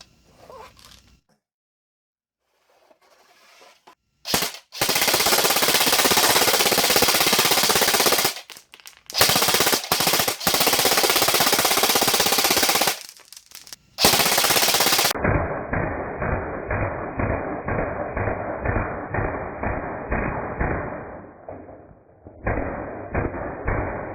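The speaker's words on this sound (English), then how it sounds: "this thing though holds like 400 rounds, and you wind the magazine up down here and you just pull the trigger" A Kral Armour air rifle fires pellets in rapid sustained bursts at a target, loud dense strings of shots broken by brief pauses, then a quicker, lighter run of repeated cracks.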